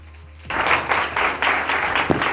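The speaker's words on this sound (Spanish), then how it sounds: "Un aplauso para ellos." Audience applause bursts out abruptly after a brief quiet and continues as steady, loud clapping at a Spanish conference opening talk on financial sustainability, greeting the two company CEOs taking the stage.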